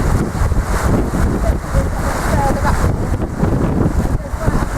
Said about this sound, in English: Just come across and look at this waterfall.